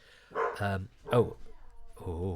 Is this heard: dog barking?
yes